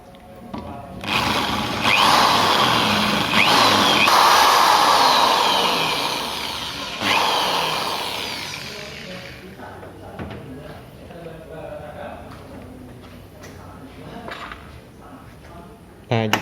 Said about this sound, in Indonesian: Pertama, kita bor terlebih dahulu benda kerja dengan menggunakan bor yang sudah kita tentukan